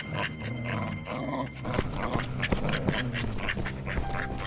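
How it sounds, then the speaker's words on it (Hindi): A cartoon dog growls and snarls while biting a character's leg, the gruff rumbling steady and close throughout amid busy cartoon sound, with some grunting bursts. "इस कुत्ते ने तो मेरा पैर ही पकड़ लिया"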